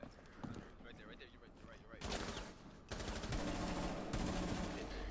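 Gunfire in the Rainbow Six Siege video game, a shot fired through a wall, with sharp bursts of shots over steady background game noise and a louder stretch of firing toward the end.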